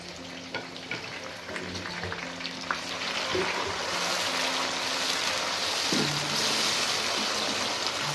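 Chopped tomatoes and slit green chilies hit a pan of frying onions for chicken biryani, setting off a steady, close hiss and crackle of sizzling oil that swells and holds.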